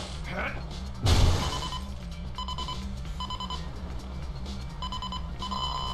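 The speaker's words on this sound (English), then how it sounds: "Listen to your metal detector to look at them." Metal detector in the No More Heroes video game sweeping a beach for buried mines, repeated short electronic beeps in evenly spaced pairs over a looping game backing track, with one loud thud near the start.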